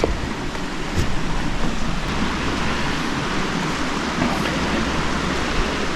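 Granite Creek in British Columbia rushing along beside a campsite, a steady, dense wash of flowing water without pause, close and fairly loud.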